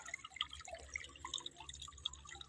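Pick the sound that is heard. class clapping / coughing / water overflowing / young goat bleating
water overflowing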